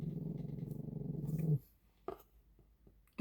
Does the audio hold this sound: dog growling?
yes